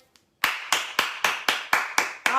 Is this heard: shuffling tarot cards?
no